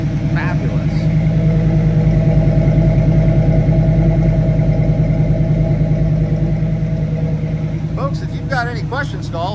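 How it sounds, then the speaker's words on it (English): A 1967 Chevrolet Camaro Rally Sport V8 idles steadily through its mufflers, a loud, close, even low chugging that holds throughout, with a few faint chirps near the end. "You hear that strong V8 just chugging away."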